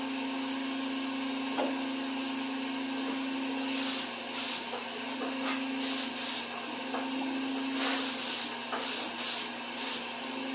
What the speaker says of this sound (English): All right, just a very light sand on it.